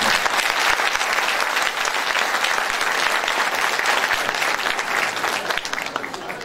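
Strong applause fills a hall at a spring folk music choir concert, a thick continuous wash of many hands clapping that holds steady and then eases slightly at the end.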